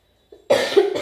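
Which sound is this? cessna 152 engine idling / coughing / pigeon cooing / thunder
coughing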